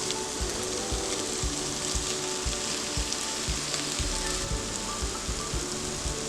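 Rice and mushrooms sizzle and fry steadily in a pan, with a continuous crackling hiss and occasional soft scraping or stirring knocks.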